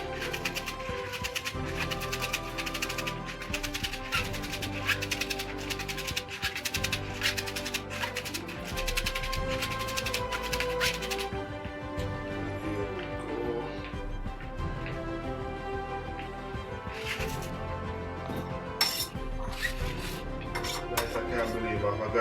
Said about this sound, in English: we're gonna put them all together and cut them real fine